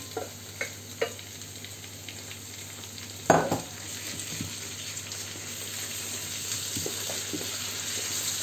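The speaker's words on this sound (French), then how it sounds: "Là mes oignons ils deviennent dorés. Donc maintenant je rajoute mes viandes." Meat tossed onto onions already frying golden in a pan sizzles steadily, with a few sharp utensil knocks and a louder clatter as it goes in, followed by continuous frying hiss.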